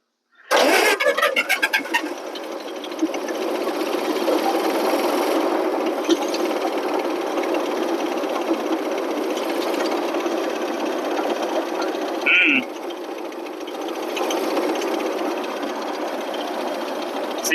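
An old Bobcat skid steer engine runs steadily after a sharp start, a loud, rough, continuous drone that holds close and constant with small throttle shifts and a brief metallic squeak partway through.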